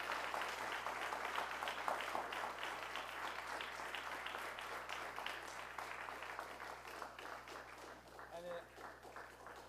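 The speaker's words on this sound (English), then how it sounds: "I would ask everyone to please clap again for Pardeep." A crowd applauds throughout at an Oak Creek tenth-anniversary event, dense clapping at a moderate distance, with a low steady hum beneath and brief voices mixed in.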